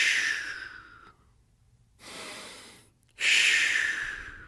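A man demonstrates shallow, wrong breathing: two loud, breathy rasping exhales or inhales near the mic, separated by a quieter airy breath and short silence, alone without talk.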